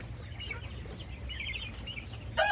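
Caged quail, one male and eight five-week-old females, give soft, faint chirps and clucks over low background noise, with a brighter, sharper call at the very end.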